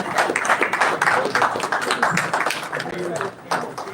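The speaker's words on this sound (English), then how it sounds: "Please let us keep clapping for our technical presenter." Audience members at a Nigerian-American Chamber of Commerce live event clap for a technical presenter, with close, uneven bursts of hand claps mixed with talking voices.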